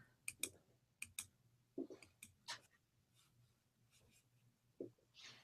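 Computer mouse clicking on an on-screen chart, a series of sharp close clicks in uneven pairs and singles over a low hum, with no talk.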